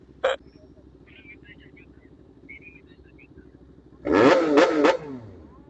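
A two-cylinder big bike revs up hard from idle at night on a Manila street, a strong rising-and-falling roar close by lasting about a second, after low idling and a brief voice.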